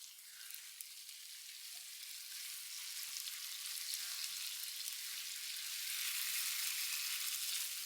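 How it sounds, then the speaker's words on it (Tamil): Tomato thokku bubbling and sizzling in a pan over a low flame, a steady soft frying hiss that swells slightly and runs on without pause, heard alone. "இப்போ பார்த்தீங்கன்னா நம்ம தொக்கு நல்லா கொதிக்குது."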